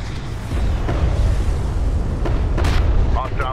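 Demolition charges detonate in Homeworld: Deserts of Kharak, a heavy booming blast layered over dense, continuous battle rumble, with sharp bursts near the end and radio-style voices talking throughout.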